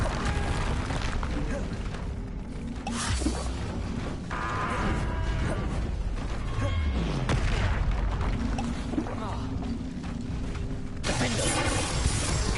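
Confringo fire-blast spells exploding during Hogwarts Legacy combat, a dense run of booming, shattering blasts with crackling debris, kept loud and busy throughout, with other spell effects and clatter mixed in.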